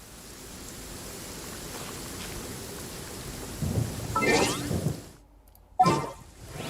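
Steady rain hisses throughout in the game Genshin Impact, then a deep rumble of thunder builds and breaks, followed by a brief silence and another sharp crack.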